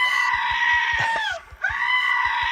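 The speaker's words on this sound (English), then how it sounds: "Here's the sheep with the authentic sheep sounds." A toy sheep plays recorded sheep sounds: a loud, sustained, wavering bleat that dips and briefly breaks off, then swells again, over a steady ticking pulse underneath.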